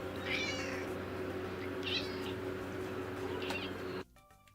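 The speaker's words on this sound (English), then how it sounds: "Lexi Meow Cat cameo. Oh my goodness, listen, she's so dramatic" A cat meows dramatically three times, drawn-out and whiny, over a steady background hum that cuts off abruptly at the end.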